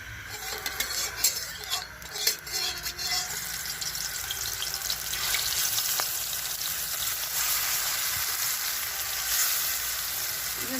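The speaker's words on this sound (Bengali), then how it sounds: "মাছটা এবার ভেজে নেব" Rohu fish fries in mustard oil in a hot wok, a dense, steady sizzle close by with scattered pops and a few light metal clinks early on, no voices.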